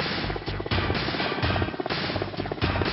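A Mi-8 helicopter in flight carrying a slung load, its rotor beating in a loud, continuous, rhythmic chop that fills the whole clip.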